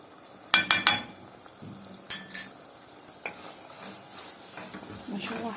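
Chicken liver and gizzards being stirred and sautéed with cinnamon and salt in a pan, with sharp clattering scrapes of a utensil against the pan over a soft, low sizzle; quiet background talk.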